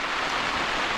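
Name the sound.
rain falling on a tent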